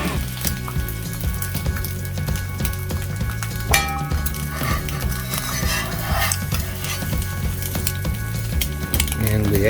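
An egg fries in a rough cast iron pan, a steady close sizzle with metallic scrapes and clinks from a utensil against the pan.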